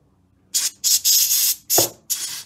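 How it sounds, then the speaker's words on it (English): Several short bursts of aerosol spray hiss against a Dellorto DRLA 36 H turbo carburettor part during a bench service, five separate blasts in quick succession, close and fairly loud with a faint clunk between. "Give it a bit of a spray."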